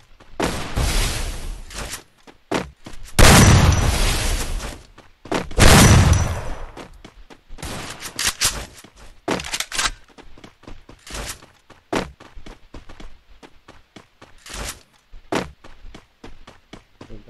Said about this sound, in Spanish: ¡Me está dando unos tiros santísimos!